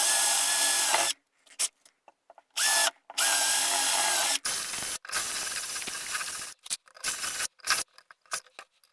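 A power drill bores a hole for a USB connector in a handmade puzzle music box, running in loud whining bursts of a second or so, separated by short pauses and a few brief taps.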